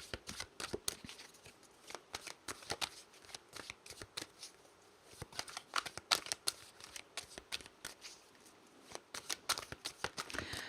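Tarot cards being shuffled and drawn, with rapid riffling bursts and soft flicking slaps repeating across the stretch, close but quiet.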